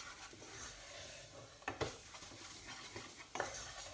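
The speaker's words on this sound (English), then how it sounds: "So I'm just going to cook the flour out for a minute or so." Plain flour cooking in butter for a roux in a pan, a soft continuous stirring rub with two sharper utensil scrapes against the pan, quiet and close, no voices.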